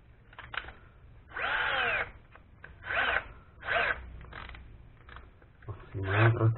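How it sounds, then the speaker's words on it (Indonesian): A Bosch GSB 1080-2-Li cordless drill whirs in several short bursts of a few seconds each, close by, starting and stopping repeatedly, with a voice talking in between. "Jadi kita coba buat ngebor."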